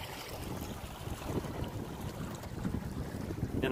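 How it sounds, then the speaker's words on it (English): Steady breeze rushing over a sailboat underway on a fine day, a continuous broadband wind and water wash close to the microphone, swelling slightly toward the end, with no talk. "It's a nice little breeze."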